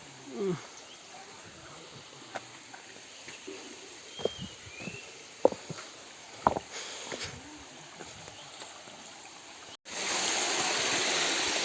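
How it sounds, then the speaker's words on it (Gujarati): Small streams of water trickle near a waterfall in the Barda hills of Porbandar, a soft steady flow dotted with bird chirps and clicks, then a sudden louder rush of water near the end. "નાના નાના ઝરણાઓ સ્વરૂપે પાણી ખૂબ જ સુંદર નજારો છે ઉપર ખોડિયારમાં બિરાજ્યા ઉપર ધોધ છે"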